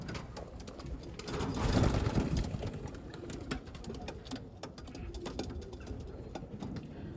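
A flock of young racing pigeons takes off on a first outing, a rushing flutter of wings swelling and then fading into a steady, moderate murmur of flapping and low coos.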